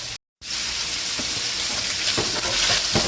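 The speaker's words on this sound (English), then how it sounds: "the goal is we're just trying to get this browned a little bit" Sausage fries and browns in a greasy pan with cabbage, giving a loud, continuous sizzle and crackle broken by the occasional stir, after a brief silent gap at the start.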